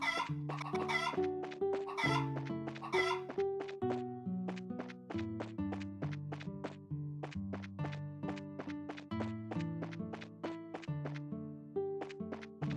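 Chickens clucking in the video game Trails in the Sky FC, a rhythmic series of short, bright tonal clucks repeating steadily and close over a quiet background with no talking.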